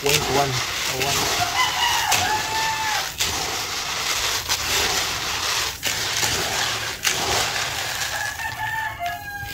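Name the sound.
chickens clucking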